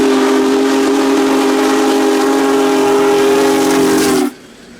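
Union Pacific Big Boy 4014 steam locomotive sounding its whistle in Bunkie, Louisiana: one long, loud, steady chord held for about four seconds over hiss, then cut off abruptly.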